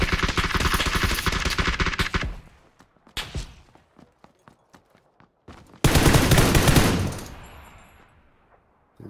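Gunfire in a video game comes as loud, dense automatic bursts, then a string of single spaced shots, and then another long, heavy volley that fades away. No one talks over it.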